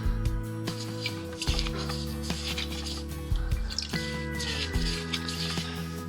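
Liquid drips into a bucket of gasoline used to clean parts from a 1985 Chevrolet Silverado front axle, with close, irregular plinks and small splashes over a low steady hum.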